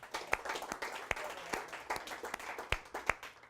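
A studio audience gives scattered applause, a sparse spread of individual claps at moderate distance that stays light and uneven throughout.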